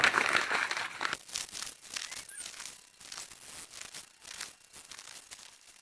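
Paper being crumpled and scrunched by hand to make toilet paper, a dense run of crackling crinkles, loudest at the start and then continuing in uneven bursts, close up and without speech.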